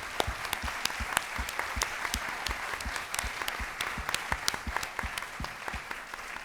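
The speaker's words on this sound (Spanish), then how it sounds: "creo que Sara se merece un fuerte aplauso y gracias por haber venido." Scattered applause at the close of a writing-school talk with an author, individual claps standing out sharply in an uneven rhythm from a modest audience, steady for several seconds with a faint voice underneath.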